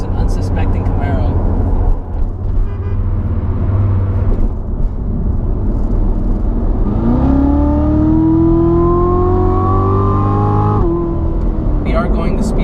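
A C7 Corvette Z06 drives along, its engine and exhaust droning low under road noise, then rising in pitch as it accelerates through the gears before easing off; a voice talks at times.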